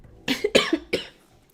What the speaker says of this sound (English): I swear I'm fine as I cough up a lung.